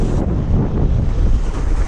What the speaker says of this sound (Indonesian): Gak peduli angin, gak peduli ombak.